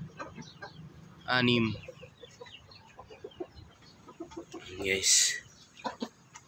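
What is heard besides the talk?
Black Australorp chickens clucking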